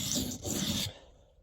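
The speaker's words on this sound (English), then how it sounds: "the steel is very easy to sharpen" Blade of a Leatherman Rebar multitool in 420HC steel drawn across a sharpening stone, one short gritty rasping stroke that stops abruptly, quiet and close, with no talking.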